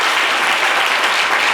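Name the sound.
audience applause for Moussa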